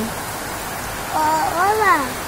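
Heavy rain falls outside as a steady, even hiss throughout, with a voice joining over it in the second half.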